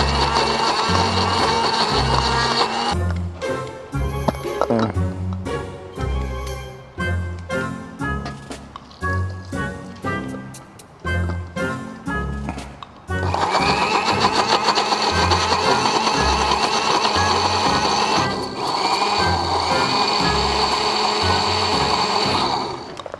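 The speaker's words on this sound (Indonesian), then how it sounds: "Gampang ternyata ngulek cabai pakai blender itu ya." A blender grinds chili peppers at a Lebaran camp in a pine forest, its loud, steady whirring roar filling the second half after a stretch of rhythmic, tonal sounds.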